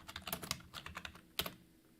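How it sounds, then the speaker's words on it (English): Rapid bursts of computer keyboard typing as a full name is entered, light irregular key clicks in quick clusters with a brief pause and a final flurry, fairly close and quiet with no talking. "Why don't you go ahead and type in your full name?"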